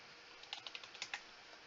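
Fingers tap on a computer keyboard in a short, quiet burst of about a dozen crisp clicks over a soft background hiss, with no talking.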